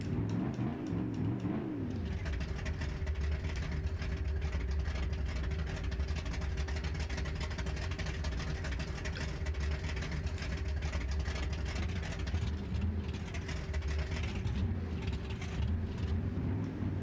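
A loud car engine in the BeamNG driving simulator runs steadily for the whole stretch, a continuous droning hum with a brief shift near the start and no talking over it.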